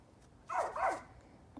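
A dog gives a quick pair of close barks indoors, a short loud burst that stands alone against a quiet room.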